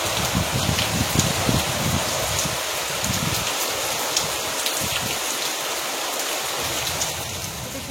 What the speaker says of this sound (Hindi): सुंदर वर्षा होगी ना